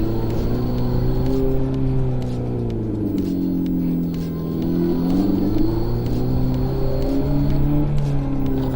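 A Revolt RV 400 electric motorcycle, a 2022 model, ridden in its third mode, giving a steady whirring drive hum with rumbling road noise and wind throughout, a faint high whine running underneath.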